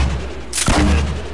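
A grenade launcher fires in a Fortnite match, one short blast bursting out partway through over a steady low game rumble, with no talking.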